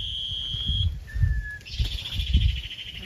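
Small sunbirds call near a house, with a long, steady high whistle, then a brief upward chirp and a second high trill, over low rustling background noise.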